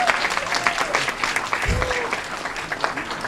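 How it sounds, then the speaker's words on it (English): Applause fills a city council meeting in Aurora as a crowd claps steadily for a high school team's state championship run, a dense, sustained patter throughout with a brief low thump near the middle. "Come on, that deserves a round of applause."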